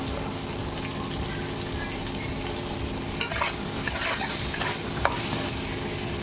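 Pointed gourd pieces seasoned with salt and turmeric sizzle steadily in a pan, a constant loud frying hiss with a few sharper crackles and stirring clinks toward the end.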